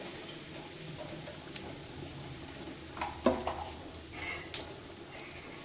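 Quiet, steady frying crackle of kalpasi (stone flower) and fennel powder in hot oil in a pan, with a few sharper pops and stirring clicks, no voices.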